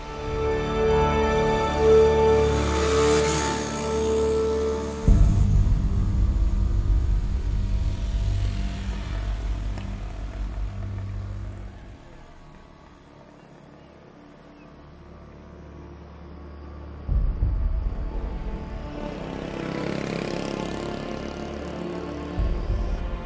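A Suzuki Raider R150 underbone motorcycle revs hard and accelerates uphill toward 10,000 RPM, a loud, steady engine drone with rising pitch, easing off midway before a second loud burst near the end.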